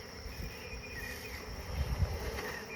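Leftover honeybees in a hive box give off a steady, low buzzing hum that holds evenly throughout, swelling slightly near the end.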